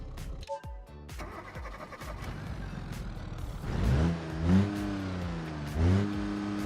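Revving engine in a car-building game, from a big-block Thunder V8 or straight-six choice, deep and diesel-like, rising in several low, slow surges after a choppy start, loud and alone.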